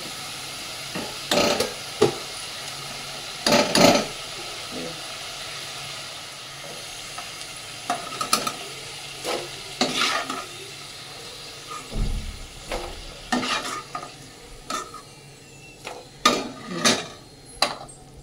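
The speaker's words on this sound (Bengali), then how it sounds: "এক এক করে সমস্ত আলুগুলো আমি ভেজে নেব।" Potato pieces frying one batch after another in hot oil in a wok, a soft continuous sizzle and hiss under repeated clinks and scrapes of a metal spatula, the knocks growing busier and louder toward the end.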